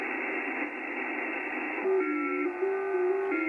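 An FT8 digital-mode signal on the 40 meter HF band comes through a radio receiver, a steady tone warbling between pitches over a dense hiss of band noise.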